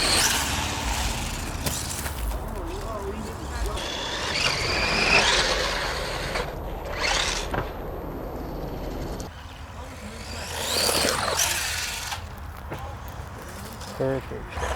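A Wltoys 124019 RC buggy drives outdoors, its motor whining as it surges past and fades, with people talking nearby.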